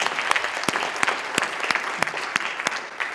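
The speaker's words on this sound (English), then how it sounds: "let's give them a big round of applause for great macaroni." A round of applause for homemade macaroni jewellery, steady dense clapping with a few sharp louder claps standing out, fairly close and continuous throughout.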